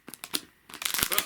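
Plastic packaging of a Sumikko Gurashi craft sewing kit being opened, a brief burst of crinkling and tearing with a few sharp rustles, close and fairly quiet.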